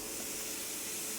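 Potatoes sizzling in a frying pan for a home-cooked lunch, a steady dense hiss of frying oil running without a break, close and even, with no voices.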